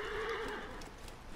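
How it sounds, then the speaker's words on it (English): Horse neighing in the Assassin's Creed Origins video game, a brief whinny that fades into soft hoof clip-clops, moderately loud with no talk. "Eventually, all these horses are gonna die,"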